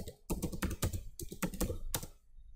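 Close computer keyboard typing of the passwd command, a quick irregular run of crisp key clicks in two bursts, with no voice.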